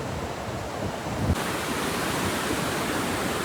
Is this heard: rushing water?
yes